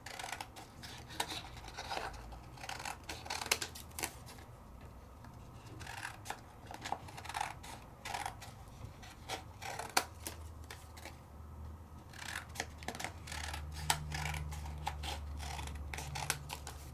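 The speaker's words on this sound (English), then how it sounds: "And now I can cut it down to what I want it to be." Paper card stock trimmed down to card size with scissors, crisp snipping cuts repeating irregularly at close range over a quiet room hum, no talking.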